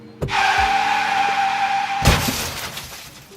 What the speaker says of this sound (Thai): มันหมุนเคว้งอยู่บนถนนอย่างรุนแรงในที่สุด